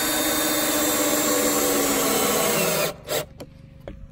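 A power drill removing bolts whirs loudly and steadily, then cuts off, followed by a few short clicks and clunks of handling.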